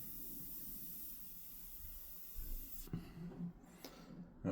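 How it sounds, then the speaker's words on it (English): An airbrush sprays paint onto an alien skull, giving a steady, close hiss that cuts off partway through, followed by a few soft handling clicks and bumps. "Oh, look at this airbrush"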